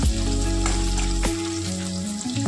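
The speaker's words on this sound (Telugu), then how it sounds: "ఒకసారి సిమ్లోనే పెట్టి వేయించుకోవాలి" Ingredients for pudina (mint) rice fry in a pan on a low flame, a steady, close sizzle and crackle under a constant low hum, with no talking.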